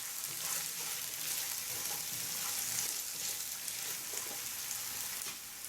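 Onion fries in a pan with a steady, hissing sizzle while it is stirred now and then. The sizzle stays fairly even and close throughout.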